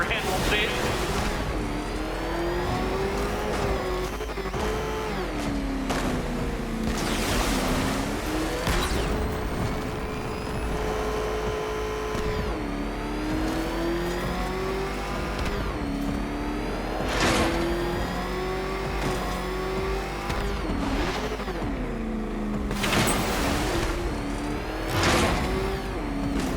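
A car in a Batman video game drives continuously, its engine whining and rising and falling in pitch. Whooshes and bursts punctuate it, and a voice speaks over the motor.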